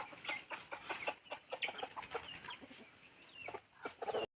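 A farmyard rooster clucks in repeated short bursts, fairly close but soft, over a quiet outdoor background with no talk.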